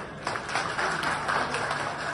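Audience applause at a Shiv Sena legislator's visit to honour the Meshram Foundation, a dense, steady patter of many hands clapping at moderate volume, continuing without a break.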